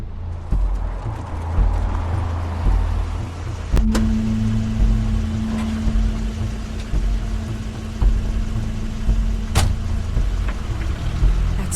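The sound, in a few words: car in video game The Wolf Among Us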